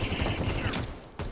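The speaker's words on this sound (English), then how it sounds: "Shots heard." Rapid burst of video game gunfire, a quick rattling fusillade of shots with one sharper report near the end, fairly quiet in the mix.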